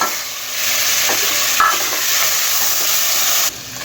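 Spices and tomatoes frying in a pan for a daal maash recipe, a loud continuous sizzle with brief stirring scrapes, the hiss dropping off abruptly near the end.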